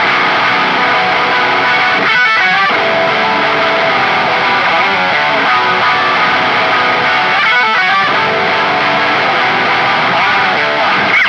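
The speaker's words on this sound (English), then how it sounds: "you're basically blending in a 7 semitone pitch shifted tone into the background of your guitar" Distorted electric guitar playing continuously with a thick, layered tone, a seven-semitone pitch-shifted harmony from an effect pedal blended underneath; a few strummed attacks stand out.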